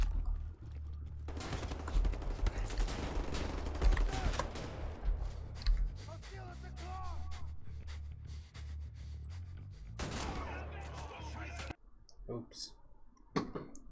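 Gunfire in the video game Wolfenstein: The New Order crackles in rapid, dense bursts, mixed with game effects and voices throughout.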